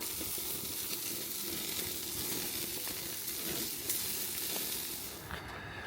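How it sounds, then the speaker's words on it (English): Sausages and corn sizzle steadily on a barbecue grill, a continuous close frying hiss that stays even throughout before thinning near the end. "cook off these sausages, which Molly will get a couple of this evening, and the corn as well"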